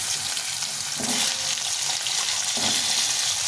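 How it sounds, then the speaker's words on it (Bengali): Potato pieces fry loudly in hot oil for a fish curry, giving a dense continuous sizzle with two brief swells where the pieces are moved in the pan. "আলুগুলো ভালো করে ভেজে নেব।"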